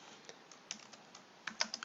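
Code typed on a computer keyboard, a sparse run of light, close keystrokes with a quicker burst of clicks near the end, no talk.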